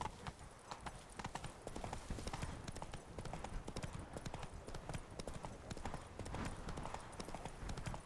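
Roach, a horse in The Witcher 3: Wild Hunt – Blood and Wine, gallops with a steady rapid clip-clop of hooves that runs the whole time at close range, over a busy game background with a faint whinny.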